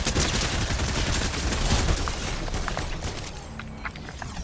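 Rapid gunfire from a Fortnite match crackles in dense, continuous bursts, loud and busy through most of the stretch before thinning out toward the end.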